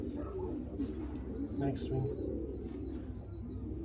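Long-range racing pigeons in a loft coo softly in the background, with a few faint chirps, while someone speaks over them throughout.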